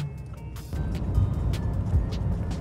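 A Bugatti Chiron's turbocharged engine rumbles low while driving on a rough road, with a steady roar and short bright bursts of turbo whoosh over it. The sound is close and continuous, and no one speaks.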